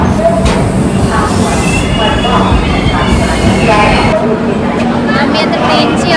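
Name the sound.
Netravati Express train arriving at the station platform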